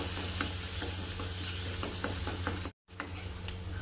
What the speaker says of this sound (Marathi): मसाल्याला पण छान असं परतून घ्यायचं आहे